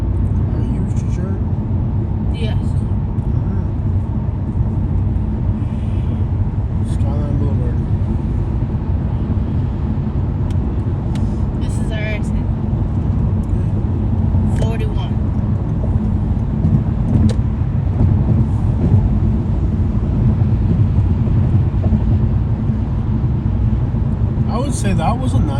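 A car cruises along an interstate in the San Francisco Bay Area, its steady low road and engine rumble filling the cabin without a break while people talk over it.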